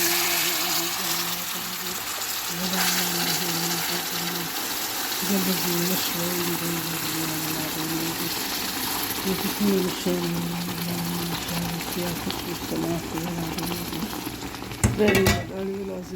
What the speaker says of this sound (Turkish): Şimdi şerbetini ilave edelim. Yavaş yavaş.